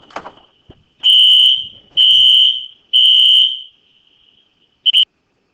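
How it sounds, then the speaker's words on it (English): A fire alarm going off indoors: three loud, long piercing electronic tones about a second each with short gaps, then a brief double chirp, heard alone near the end of a quiet stretch. "fire alarm's going off"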